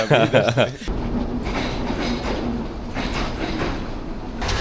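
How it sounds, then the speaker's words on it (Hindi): A Bangladeshi local passenger train rumbles steadily with rattling and clatter of carriages, a continuous near, loud rolling noise after a brief burst of other sound at the start. "ये है जी बांग्लादेश की लोकल ट्रेन, बिल्कुल खाली है।"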